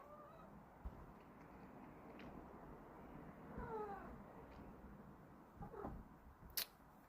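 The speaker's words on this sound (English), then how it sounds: "Can y'all hear my cat voicing her concerns?" A pet cat meows faintly a few times in a quiet room, with drawn-out, complaining calls spread across the stretch, alongside soft background noise and small bumps.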